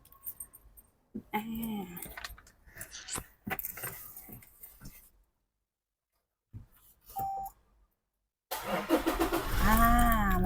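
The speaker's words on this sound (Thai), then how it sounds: "เดี๋ยวขออนุญาตขึ้นไปสตาร์ทรถให้พี่ๆดูนะ" Keys jangle, a door thuds and electronic beeps chime before a Toyota Fortuner 2.8V 4WD fires up near the end, its diesel engine catching with a rising crank and then running loudly up close, with quiet gaps between.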